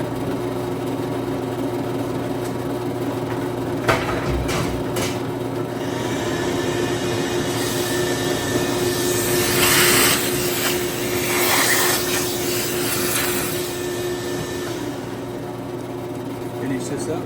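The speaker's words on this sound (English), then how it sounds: "Vacuum this real quick." Steady loud whine of a vacuum cleaner running continuously in a workshop where fuel rails are being drilled, with brief bumps and shifts in pitch as the nozzle moves.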